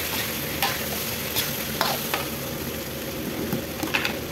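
Chicken and potatoes stirred and sautéed in a pan, a continuous close sizzle broken by repeated scraping strokes and light spatula knocks against the metal.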